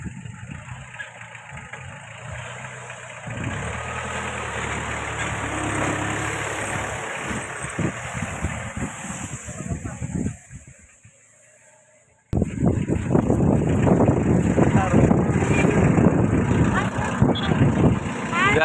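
A vehicle pulls up with its engine running, a steady mid-pitched idle and rumble. The sound cuts out briefly, then returns louder and closer, while people talk nearby.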